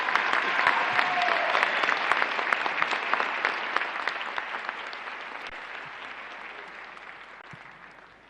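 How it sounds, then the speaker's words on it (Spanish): Loud crowd applause at the opening session of the Foro de São Paulo, welcoming Bolivia's vice president to the podium: a thick, hall-filling roar of clapping that holds strong, then gradually fades away. "Le brindamos un fuerte aplauso."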